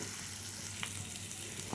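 Eggplant pieces frying in a pan for a spiced tempering dish, giving a steady low sizzle with a couple of faint stirring clicks, close and quiet, without talk.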